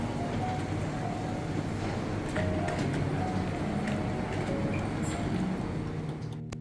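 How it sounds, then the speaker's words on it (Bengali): A small shuttle train runs inside an airport, giving a steady low rail rumble with faint clicks and tones throughout. The sound is heard from on board and stops abruptly at the end. "এয়ারপোর্টের ভেতর থেকেই একটা ছোট্ট ট্রেন মতো ছাড়ে এই যে এই ট্রেনটার কথাই আপনাদেরকে বলছি"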